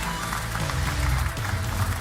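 An audience at a trade fair award ceremony claps for a winner called to the stage, a short burst of dense applause mixed with low hall rumble.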